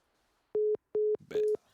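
A phone call ends with three identical, loud electronic beeps of a single steady pitch. They are evenly spaced, and a brief bit of noise sits between the second and third beep.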